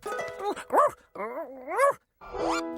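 A cartoon dog in Word World gives a run of voiced barks, yips and whimpering groans, with several rising and falling cries close up and a short gap before the last one.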